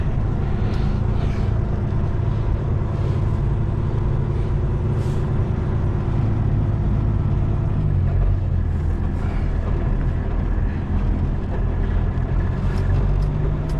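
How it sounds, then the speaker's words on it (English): A pickup truck reverses and maneuvers into a tight spot, its engine a steady, loud, close rumble throughout with no talking over it. "I guess I'll try to back into that area."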